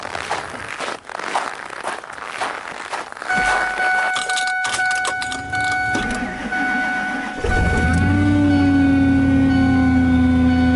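On a chilly morning, keys jangle before a truck's dashboard chime sounds steadily. The cold engine then turns over and starts, settling into a close, steady idle hum.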